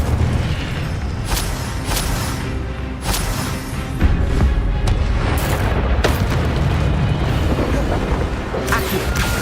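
Fiery spell blasts from the Incendio charm in Hogwarts Legacy, booming, crackling bursts erupting repeatedly over a dense, loud game soundscape with several sharp impacts.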